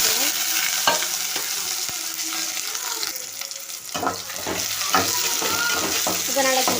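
Onions frying with mustard seeds and urad dal hiss steadily in a hot pan while repeated scraping stirs knock against the metal, close up, with no speech.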